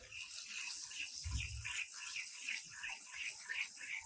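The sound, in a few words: ginger garlic paste added to hot oil with cumin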